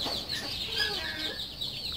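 Chickens cluck and chirp softly nearby, small overlapping calls with no talk, set against steady outdoor background noise.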